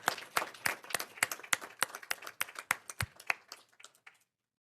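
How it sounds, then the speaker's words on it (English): A few people clap at a school district board meeting to honor staff members, a sparse round of distinct hand claps at an irregular rhythm, close and fairly clear, tapering off after about four seconds. "Please join me in a round of applause for these staff members."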